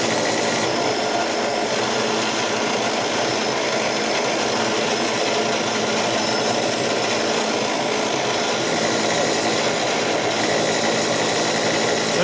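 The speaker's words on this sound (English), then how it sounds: "I'm just knocking the rust off it so I can paint it." A drill press wire wheel grinds rust off a vintage carpenter's tool box, a harsh continuous whir with scratchy high hiss, loud and close, running without pause.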